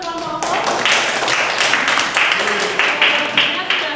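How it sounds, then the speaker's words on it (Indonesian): Classroom applause for a student group, a steady wash of clapping from many hands that runs through the clip, with a teacher's voice heard near the start. "beri tepuk tangan untuk kelompok OVO"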